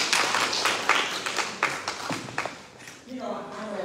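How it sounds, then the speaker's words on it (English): An audience at an African American judicial forum claps for esteemed guests in a scattered, fairly quiet round of applause. A voice briefly joins near the end. "Let's give all of our esteemed guests a round of applause."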